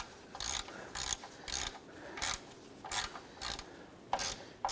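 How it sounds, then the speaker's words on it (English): A hand ratchet with a 13mm socket works loose the oil drain plug on a 1993–1997 Ford Ranger. About eight sharp clicking bursts come in an uneven rhythm, close by and alone. "Use a 13mm socket with our ratchet. Go ahead and loosen and remove our drain plug for our oil pan."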